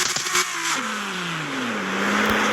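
Nissan Skyline R33 engine revving hard toward 8,000 rpm, a loud close rising wail through gears with pitch steps, alone without talk.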